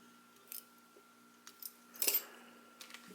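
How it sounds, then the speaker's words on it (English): Quiet, sharp metallic snips from small scissors clipping thread while fly tying, a few isolated clicks followed by a brief cluster of cutting sounds, no voices. "I just put my scissors against the thread and push."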